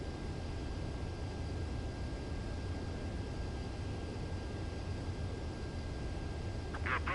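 Steady aircraft engine drone from a plane on final approach to a runway in the Ace Combat video game, a continuous loud roar holding even throughout with a brief higher whine near the end.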